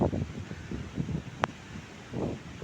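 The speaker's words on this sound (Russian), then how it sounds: "шквалистый ветер, очень сильный" Strong squally wind after a night of heavy rain at Alushta on the Crimean coast buffets the microphone in uneven gusts, with rustling and one brief sharp tick in the middle.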